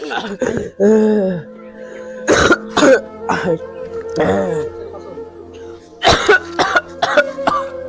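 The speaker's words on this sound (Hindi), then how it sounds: "खांसी खांसी बहुत तेज आवत है" A man coughs hard in a series of harsh, raspy bursts, close and loud, with strained throat sounds and brief vocal noises between the fits.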